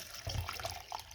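Water runs briefly from a tap into a container holding a soaking solution of potassium humate, Fitosporin and honey for grape vine cuttings, a close, steady gushing splash.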